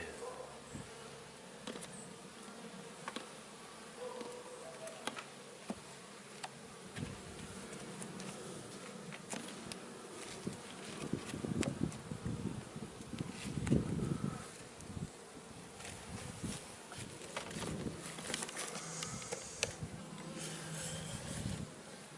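Honey bees hum in a dense, continuous drone inside a small hive box, with faint rustling and occasional louder swells close by, and no clear speech.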